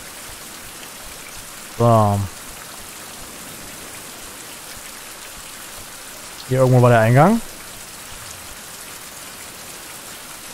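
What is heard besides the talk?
rain in the video game Survival: Fountain of Youth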